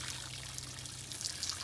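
Water pours and trickles steadily onto the soil of a potted grafted avocado tree, a brief, soft, continuous splashing close by.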